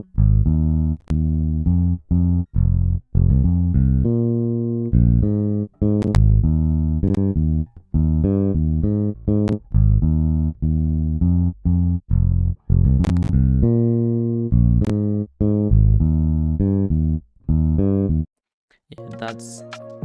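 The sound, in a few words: bass line from Ample Bass P plugin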